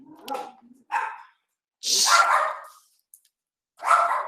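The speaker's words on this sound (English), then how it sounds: "Let me get them a dog biscuit so that they will be quiet." Dog barking in bursts in a home setting, several sharp loud barks and yips spaced across a few seconds with quiet gaps between, no talk over them.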